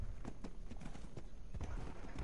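A zebra's hooves clopping in ARK: Survival Evolved, a run of quick, light hoofbeats at moderate level over a faint ambient bed.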